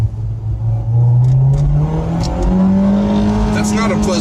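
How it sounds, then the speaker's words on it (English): Mitsubishi Evo X with a stock exhaust revving hard, a loud, close engine note climbing steadily in pitch through a gear, with a voice talking over it. "It sounds like engine. It's not a good sounding engine."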